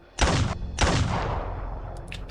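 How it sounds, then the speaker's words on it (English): A shotgun fires twice in the Arknights game, two loud, close blasts about half a second apart, each followed by a long rumbling decay, with a few faint clicks afterward. "Frederick pulled out his shotgun and fires in front of him"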